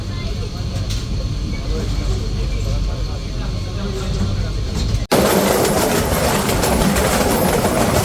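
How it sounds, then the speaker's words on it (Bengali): The Shimanta Express train pulls out of Birampur railway station, a steady loud rumble and rattle of the carriages close by that shifts abruptly to a brighter, noisier roar partway through, with a voice speaking over it. "ইতিমধ্যেই কিন্তু ট্রেনটি বিরামপুর রেল স্টেশন ছেড়ে যাচ্ছে"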